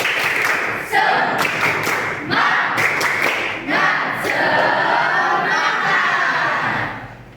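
A school class performs a rhythmic spirit clap, bursts of children's clapping and thumping in quick patterned groups mixed with shouted chanting, loud and close in a classroom.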